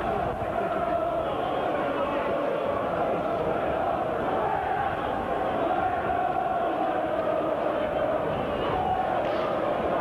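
A packed rugby league stadium crowd at Wigan, some 10,000 to 11,000 strong, keeps up a dense, steady roar for the whole stretch. A commentator's voice probably runs underneath.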